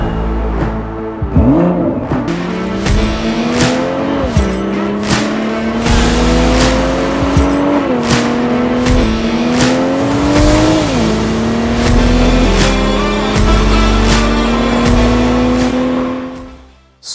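A 2023 BMW M340i with the B58 engine takes off under launch control, revving hard and then pulling through several rising gears with quick shift breaks, loud and close inside the car, with no talk.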